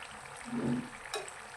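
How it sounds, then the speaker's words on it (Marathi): Snacks fry in hot oil until golden, giving a soft, faint sizzle with a brief bubbling swell and a light scrape partway through. "हे बघा सोनेरी रंगावर तळून घेऊया ह्यांना"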